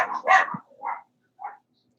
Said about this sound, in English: Oh, we're being attacked by a vicious were-dog.